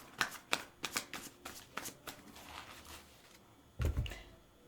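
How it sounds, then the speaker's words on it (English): Tarot cards are shuffled by hand during a reading, a quick run of crisp riffling flutters and snaps in an uneven rhythm, then a pause and one louder final shuffle with a soft thump, close with no talk. "I need to pull another card here"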